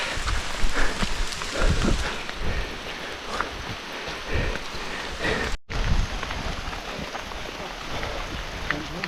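Heavy rain pours down on a forest hiking trail on Mount Lawu, a dense, constant hiss with scattered nearby drop hits and some wind buffeting the microphone.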